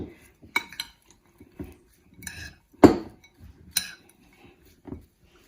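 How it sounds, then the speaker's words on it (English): A spoon clinks and scrapes against a bowl while a walnut and garlic topping for salmon is mixed, giving a series of irregular close metallic taps and knocks with brief pauses, no speech. "Make sure you mix it very well so the garlic won't be clumped in one place."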